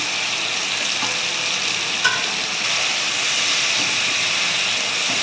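Spice masala with chopped tomato and whole green chillies fries for a mutton curry with papaya and potato, producing a loud, even, close sizzling hiss with one brief clink of a utensil.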